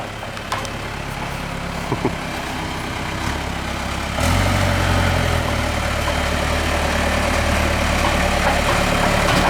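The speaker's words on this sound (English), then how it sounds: "A little tractor." A small tractor with fire-damaged wiring idles close by, a steady low engine rumble that steps up louder and rougher partway through, then settles into a continuous drone.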